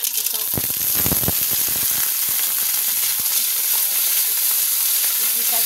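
Onions sauté loudly in a hot pan while a Filipino dish of snails with fern greens is cooked, a dense continuous sizzle broken by crackling bursts and stirring scrapes near the start.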